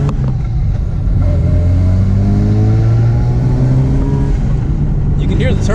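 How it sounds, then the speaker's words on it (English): A turbocharged car engine revs loud and close, its rising and falling drone sweeping up and down under a constant rush of noise, with a faint whistle near the end. "You can hear the turbo."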